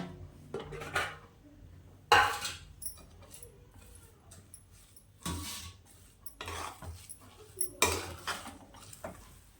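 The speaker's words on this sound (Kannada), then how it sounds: "ಈಗ ನಾನು ತಟ್ಟೆ ಸರ್ವ್ ಮಾಡ್ತಾಯಿದ್ದೀನಿ ನೋಡಿ." Steel plates and utensils clatter and clink as freshly made upma is served onto a plate at home, with scattered close knocks and scrapes spread irregularly through the stretch and no clear talk.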